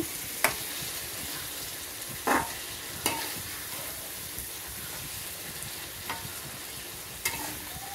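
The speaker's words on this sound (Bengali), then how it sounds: "দেখছেন, আমি এটাকে মেশাচ্ছি।" Food frying in oil in a pan while being stirred, a steady low sizzle broken by a few sharp scraping clinks of the utensil against the pan at irregular intervals, close and fairly quiet.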